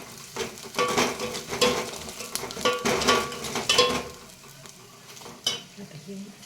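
Masala and chilli powder hit hot oil in a home kitchen pan, giving a steady close sizzle broken by repeated scraping stirs, with the frying fading somewhat toward the end.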